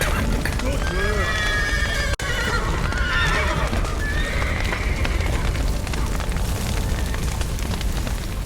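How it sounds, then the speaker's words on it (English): Several horses neigh and whinny over a rumbling, crackling background, with a sharp thud early on, in the video game The Witcher 3: Wild Hunt. "The horses!"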